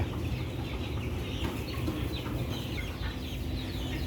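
Soft, low clucking from a chicken being weighed, over a dense murmur of background noise, no voices.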